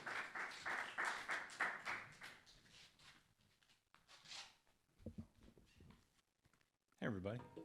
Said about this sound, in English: Please give a large round of applause for our feature and a all-around great person.